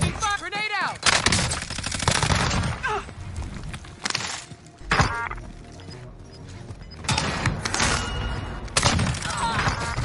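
Rapid gunfire fills a busy online shooter match: loud cracking shots and bursts of automatic fire, sharp thuds and impacts, dense and continuous with game effects layered throughout.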